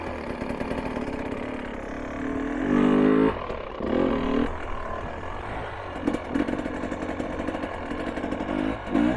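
A hard enduro dirt bike creeps along at very low speed with the clutch slipped throughout. Its engine runs continuously at a steady mid pitch, with uneven swells and small revving bursts near the machine.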